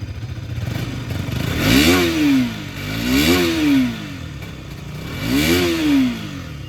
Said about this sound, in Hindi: तो ये आपका RC 200 का साउंड था